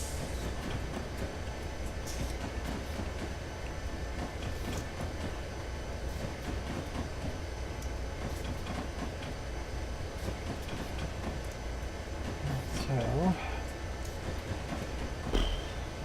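Train rolling steadily along a detailed route in the Railworks train simulator game, a continuous low rumble with faint rail clatter, a brief squeal or tonal whine near the end, no talking.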